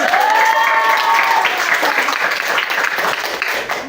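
A class of students applauds together at the close of a talk on good character, a dense steady wash of clapping with a faint sustained tone in the first second and a half, fading slightly toward the end.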